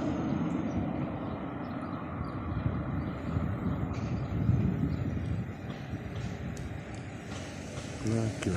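A narrow-gauge railway train in the Danube Bend area approaches, giving a low, steady rumble that builds under wind buffeting on the microphone, with no clear speech over it.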